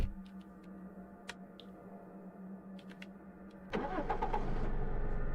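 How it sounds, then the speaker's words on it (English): A hippie van's engine cranks and catches in the Cataclysm DDA survival game, a quiet idle murmur giving way at about four seconds to a loud, steady rumbling run that holds to the end. "The hippie van's engines drive up."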